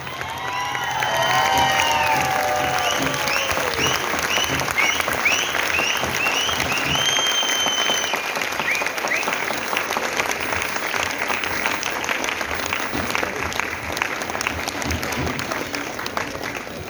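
A crowd at a standing ovation claps loudly and steadily, with cheering, whoops and shrill whistles rising over the applause early on before it settles into sustained clapping.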